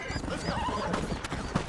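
Spooked horses whinny in Red Dead Redemption, loud neighing cries rising and falling over a bed of hoofbeats and game noise, with little talking.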